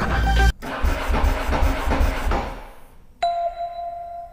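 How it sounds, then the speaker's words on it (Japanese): A restored Ducati motorcycle engine cranks and catches, a loud low rumble broken by a brief cutout, then a steady idle with a sustained tone near the end. "エンジンつくかな"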